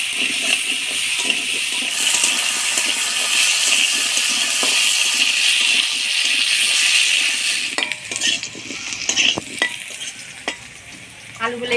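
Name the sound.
potatoes frying in oil with turmeric and salt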